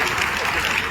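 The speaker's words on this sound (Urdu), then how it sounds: "میں ان تمام صاحبان کا زوردار تالیوں سے استقبال کرتا ہوں۔" Audience applause in a college hall at an anti-drug awareness event, steady dense clapping filling the whole short moment at moderate loudness.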